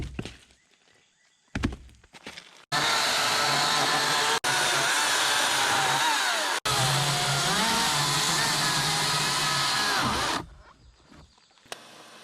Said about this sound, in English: we're going to start out with this little cordless saw and see how far one battery gets us